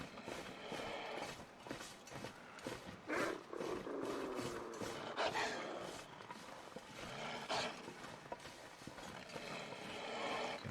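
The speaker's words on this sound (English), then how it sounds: "I can hear the bear." In a survival video game at night near a cave with wolves about, a bear growls and roars close by, with rough, repeated bursts of snarling over a noisy, restless background and no speech.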